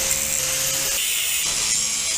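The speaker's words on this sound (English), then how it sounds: "just use a grinder and back cut it" An angle grinder whines steadily as it cuts through the metal of a car wheel, a harsh continuous grinding with a slight dip in pitch midway.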